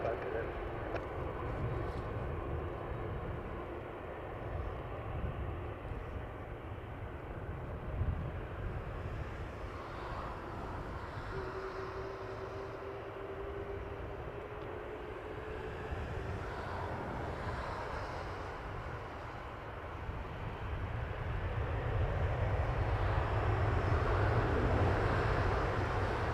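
An airliner taking off at Toronto Pearson Airport gives a steady, distant jet roar that swells louder toward the end, with people talking over it.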